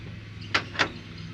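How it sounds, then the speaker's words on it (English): Two quick close thuds come from the door of a Chevy G20 van as it is closed, heard over a low steady background hum. "we close the door here."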